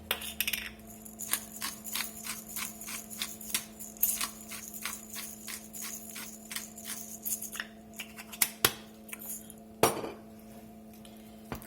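A utensil stirring mashed potato with milk and pepper in a pot for duck confit parmentier, a rapid rhythmic series of scraping clinks against the metal, with a few sharper knocks near the end.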